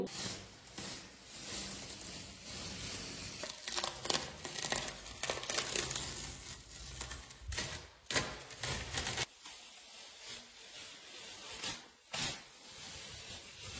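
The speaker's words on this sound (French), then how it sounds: "mission maintenant, enlever tout le scotch" Continuous crackling, ripping and crinkling as masking tape is peeled off walls, close up, with brief pauses between pulls.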